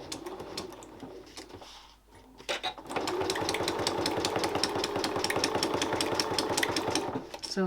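A sewing machine works along a really sharp curve in fabric, starting with short hesitant bursts and then running in a steady, rapid needle rhythm for several seconds at moderate loudness.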